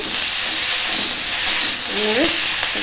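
Cauliflower and potato pieces fry in a pan with a steady, close sizzling hiss that runs throughout, while a brief voice murmurs faintly beneath it near the end.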